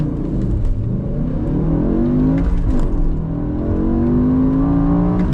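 An old BMW E60 M5 with a 6-speed manual makes a light launch, its engine rising steadily in pitch as it accelerates. The loud, continuous drone carries through a gear change.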